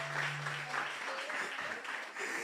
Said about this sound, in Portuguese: você pode aplaudir o Senhor por essa palavra aqui?